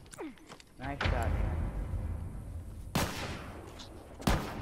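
Video game gunshots come as a few separated sharp cracks with rumbling tails, spaced a second or more apart, while people speak over and between the shots.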